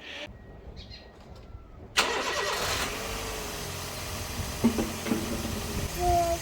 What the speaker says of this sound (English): Let me give you a video of the car starting